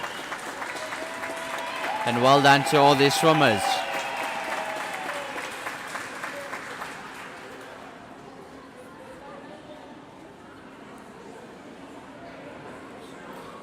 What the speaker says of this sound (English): The crowd cheering them on.